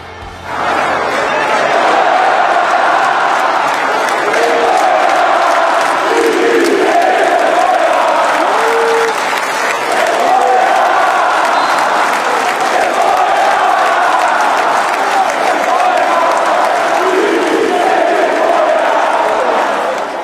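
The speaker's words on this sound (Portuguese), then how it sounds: "tivemos vaias em São Januário, vamos ouvir" A large football crowd at São Januário stadium roars and boos continuously, a loud, sustained wash of voices filling the whole stretch.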